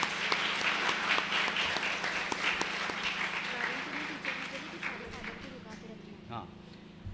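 A church congregation at a St. Anthony's feast day Mass claps for the parish priest, a dense patter of many hands that is steady at first and then gradually thins and fades.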